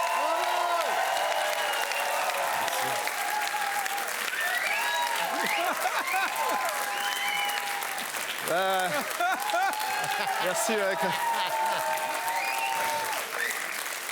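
A comedy show audience applauds loudly and steadily in a theatre, with dense clapping sustained throughout and a performer briefly speaking over it.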